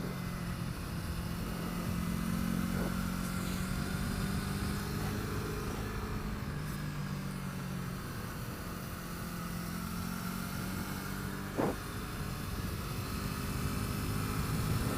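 A Yamaha R3 motorcycle engine hums steadily while riding a winding mountain road, with gear-dependent pitch shifts and a constant wind rush, loud and close throughout.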